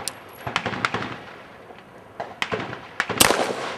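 Handgun shots fired by a student at a training range, several sharp cracks spaced irregularly with one louder burst near the end, moderately close.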